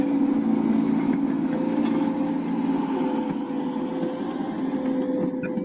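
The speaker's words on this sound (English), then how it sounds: "I keep hearing something that sounds like a diesel engine." A diesel engine runs steadily in the background, a continuous low hum with a faint tonal whine, unchanging and moderately distant throughout.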